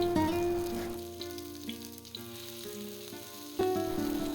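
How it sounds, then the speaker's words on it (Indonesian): Thinly sliced shallots fry in hot oil in a home kitchen, giving a steady close sizzle and crackle with a few stirring clinks, and a louder burst of hissing near the end. "Goreng bawang merah hingga benar-benar layu dan tercium harumnya."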